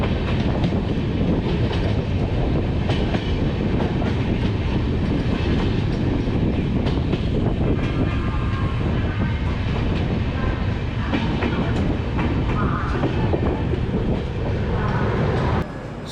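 The Lichchavi Express rumbles along the rails out of Muzaffarpur in rainy Bihar, a loud, steady roar with rhythmic wheel clatter heard from inside the train throughout.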